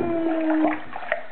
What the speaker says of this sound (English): Okay, more warm water.